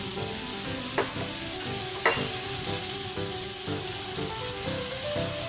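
Cauliflower and shrimp stir-frying with light soy sauce hiss and crackle steadily in a hot pan, with occasional sharp scrapes and clacks of a spatula tossing the food, close and fairly loud.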